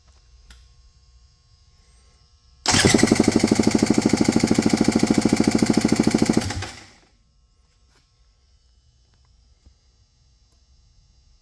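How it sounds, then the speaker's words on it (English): A cold KTM 300 SX two-stroke engine cranks over with the throttle held wide open for a compression test, a loud, rapid, steady chugging burst of about four seconds that stops abruptly, with quiet before and after. "hold the throttle wide open with the engine cold and crank it over until the needle stops rising"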